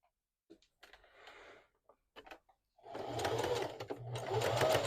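A sewing machine stitches a puffy quilted pillow, starting with short hesitant bursts, then running in a steady loud whirring stretch near the end.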